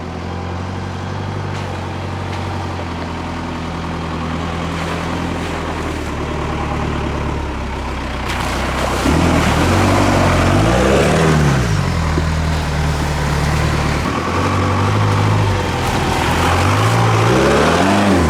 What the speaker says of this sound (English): All you hear is 4BT at an idle down the road.